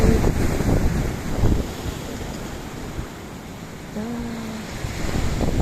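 Wind buffeting a microphone with low rumbling gusts, rising and falling throughout, with surf-like wash in the background.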